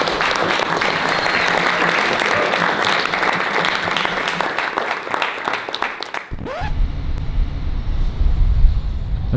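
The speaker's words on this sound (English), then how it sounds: "I mean a big round of applause to you guys." A crowd applauds at a crypto business event, dense steady clapping that runs for about six seconds before cutting off abruptly, after which a low rumble and faint voices remain.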